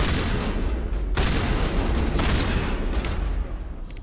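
Gunfire in the video game Mass Effect, a dense rapid fusillade of shots with heavy low booms, loud and sustained, with sharp bursts breaking through and no voices.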